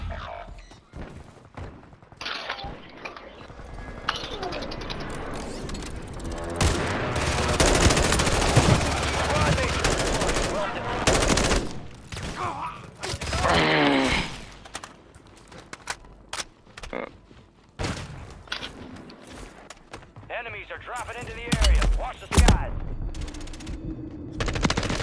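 Call of Duty gameplay delivers bursts of automatic gunfire and single shots, with weapon handling clicks and mechanical thunks, mixed with a player talking and in-game voice lines.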